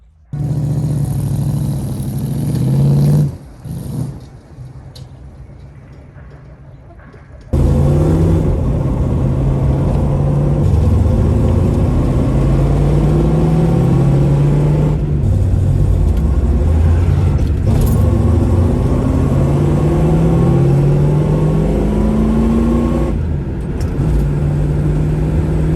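An early American sport compact car without power steering starts off after a short idle, and its engine then drones steadily with low rumbling pulls and gear-change dips, loud and close from inside the cabin, with no talk.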